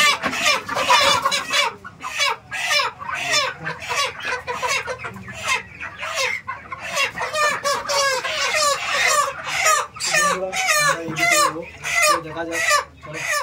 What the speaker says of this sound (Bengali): বন্ধুরা আমরা এসেছি মুরগি কিনতে, তো দেখা যাক কোন মুরগিটা নেওয়া যায়।